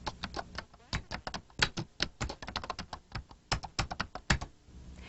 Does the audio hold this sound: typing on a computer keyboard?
yes